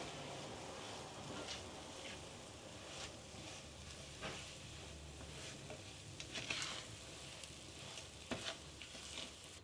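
Sugar being stirred into soft cooked rava in a pan for pineapple kesari, a steady hiss of cooking with scraping spoon strokes recurring throughout, fairly faint and without talk.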